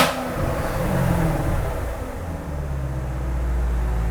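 Car's dual-mode exhaust open in sport mode, a deep, loud idle rumble with a low throb that swells slightly near the end, steady and close.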